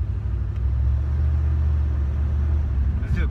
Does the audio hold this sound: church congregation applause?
no